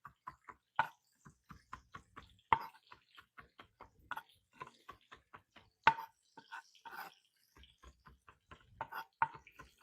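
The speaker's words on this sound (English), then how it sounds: "I'm going to mince up my fresh parsley." Fresh parsley is minced with a knife on a cutting board, giving quick, irregular light taps that sound close and fairly soft.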